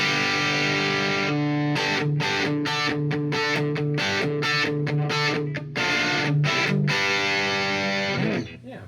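A guitar runs through a Marshall JCM800 amp at bedroom volume, playing distorted chords in choppy, rhythmic stabs with short gaps, then a final sustained chord that fades out.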